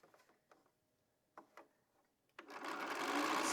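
A sewing machine stitching charm-pack quilt pieces together, with seam intersections lined up. A few soft mechanical clicks come first, then the motor starts up and runs steadily and close.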